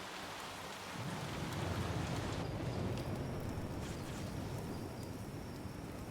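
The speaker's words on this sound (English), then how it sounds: "Find yourself in a downpour." Heavy rain downpour in the Flame in the Flood video game, a dense steady roar of falling water with low thunder rumble swelling in after a second and holding loud to the end, no talk over it.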